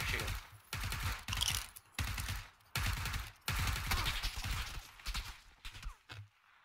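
Gunfire in the video game PUBG during a squad match, heard as repeated loud bursts and volleys of shots separated by short gaps, close and dense with no talk over them.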